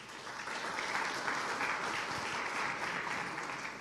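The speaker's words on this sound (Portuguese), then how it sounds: "Aplauda o Senhor." A church congregation breaks into sustained applause, a dense even roar of many hands clapping together at moderate loudness throughout.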